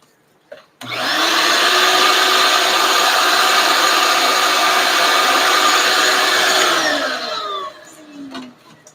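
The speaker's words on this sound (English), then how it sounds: "let's grab the vacuum." A workshop vacuum cleaner starts abruptly, runs loud and steady with a whining motor for about six seconds, then winds down as its pitch drops away, followed by a few light clunks.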